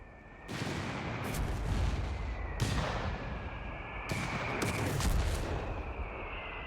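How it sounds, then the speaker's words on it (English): Mortar rounds landing in a Company of Heroes 3 battle: four heavy, booming blasts spaced a second or two apart over a steady rumble of combat, with a faint high tone running underneath. "I'm just doing some mortaring. Give them some mortaring hits."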